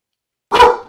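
One short, loud bark from a guard dog, close by and alone after silence.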